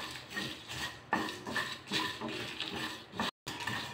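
Bay leaf, cumin and broken dried chillies dry-roast in a pan over low flame, the spatula scraping and clinking against the metal in a busy, uneven rattle of stirring.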